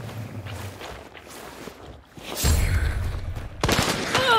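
Gunfire sounds in the video game Hunt: Showdown, with a couple of loud booming shots and echoing blasts after quieter rustling and movement.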